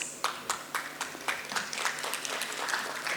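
An audience at a conference session on renewable energy and electric vehicles claps in a modest, scattered round, distinct individual claps forming a steady patter at moderate distance.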